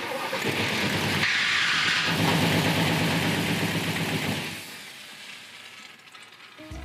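An old GT car's motor catches and runs loud and rough through most of the stretch, then settles to a quieter idle near the end, with an ignition problem and knocking condition.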